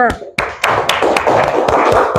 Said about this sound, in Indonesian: Tepuk tangan sekali lagi untuk kelompok 5.